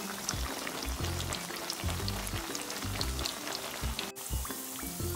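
Naan pakora fritters frying in hot oil give a steady close sizzle with crackling bubbles throughout, a brief break near the end, and no voices.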